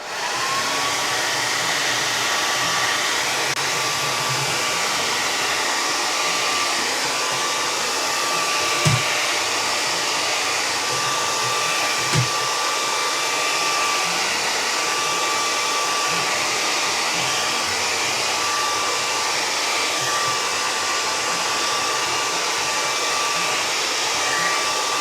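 A hair dryer drying a watercolor painting blows continuously with a steady high whooshing whine, loud and close, with a couple of faint knocks and no talking.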